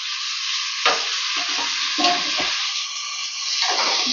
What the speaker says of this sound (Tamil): தக்காளியும் வதங்கட்டும்.